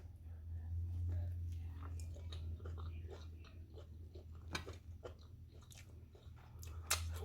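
Close-up biting and chewing of a Philly cheese steak sandwich, soft wet crunches and mouth sounds recurring over several seconds above a steady low hum.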